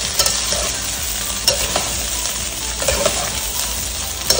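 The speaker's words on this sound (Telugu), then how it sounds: "సో ఇప్పుడు రైస్ వేసేసుకొని మంచిగా కలిపేసుకోవాలి ఒకసారి. అంతా కూడా హై ఫ్లేమ్లోనే చేయాలి." Rice stir-fried in oil over a high flame for egg fried rice, with a loud continuous sizzle and repeated quick spatula scrapes and clinks against the pan.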